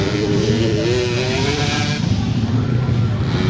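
65cc motocross bikes racing in a final heat produce a steady, loud, overlapping engine drone with shifting revs, accompanied throughout by excited commentary.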